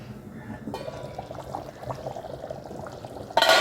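A pot of mochai karuvadu kuzhambu, a field bean and dried fish curry, bubbles on the stove with a steady simmering burble and gentle liquid churning, followed by a louder burst at the end.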